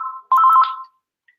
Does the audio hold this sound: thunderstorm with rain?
no